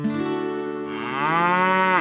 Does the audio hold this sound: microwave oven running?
no